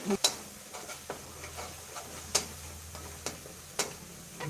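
Pork stir-fries with curry paste in a pan for a Thai spicy pork and eggplant dish: a low, steady sizzle broken by sharp spatula scrapes and taps at irregular intervals, close up and without talk.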